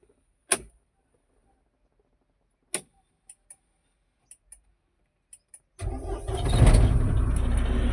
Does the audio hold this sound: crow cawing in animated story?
no